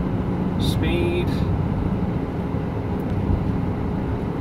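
Inside the cab of a Dodge ProMaster van, with the engine sitting right under the seats, the engine revs near 4,000 RPM as a loud, continuous broadband roar.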